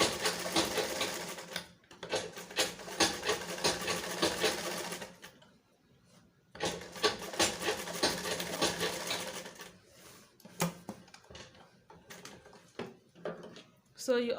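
A sewing machine stitches and back stitches a shirred top with rubber thread in fast rattling bursts, pausing between runs, with a voice talking over parts of it.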